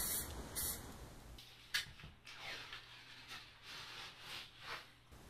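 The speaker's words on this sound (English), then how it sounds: "I moved on to a little bit glossier spray paint" Quiet, repeated hissing bursts of a glossy spray paint can coating reclaimed plywood, several short passes in a row, faint and without any talking.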